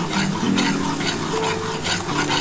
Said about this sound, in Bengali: আর এটা ভালো করে একটুখানি কষিয়ে নেব।